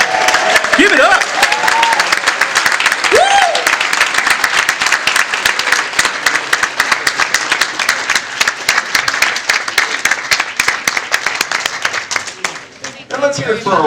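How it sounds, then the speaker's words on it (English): Loud crowd applause and cheering at a comic convention panel, sustained claps filling the hall while a host's voice shouts briefly over the start. "please, a big round of applause to all"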